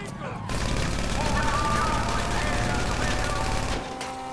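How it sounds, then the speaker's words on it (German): Automatic gunfire in GTA Online during a co-op Fleeca heist: a sustained rapid burst of shots lasting about three seconds, loud and continuous, then cut off abruptly. "Hier rumballert"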